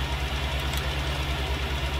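A tractor engine in Farming Simulator 19 runs with a loud, close, rhythmic diesel chug, pulsing evenly at idle for a couple of seconds with no talking.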